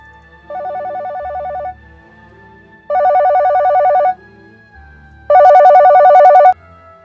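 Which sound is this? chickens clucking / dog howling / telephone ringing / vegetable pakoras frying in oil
telephone ringing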